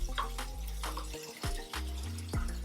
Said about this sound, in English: Put the rest of that stock in there.